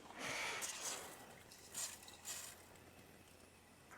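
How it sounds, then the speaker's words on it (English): Brake cleaner hisses in short, faint spray bursts into the carburetor of a Japanese-import Daihatsu 4WD that sat parked for six years: one longer burst, then two brief puffs. "just scooch a bit of highly flammable brake cleaner into the carburetor"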